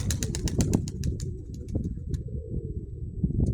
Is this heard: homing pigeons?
yes